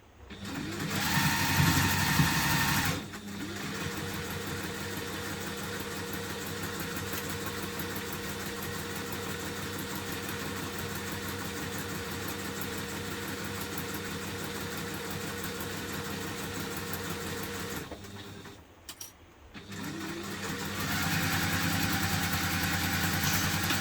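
A sewing machine runs in a long steady burst stitching a seam on a hipster bag, stopping briefly near the end before starting again, loud and close with no talk.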